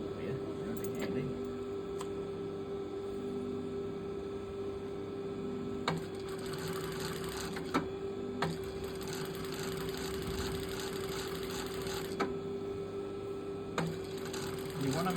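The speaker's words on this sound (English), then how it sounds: "I'll just stitch down here with a centimetre seam." A sewing machine stitching the facing seam of a jacket runs steadily with a constant hum and fine rapid needle chatter, with a few sharp clicks along the way.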